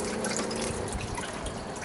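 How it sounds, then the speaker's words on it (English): Coolant draining from the radiator of a 1999 GMC Suburban, a steady close liquid trickle and spatter that runs on without pause. "while the radiator's draining"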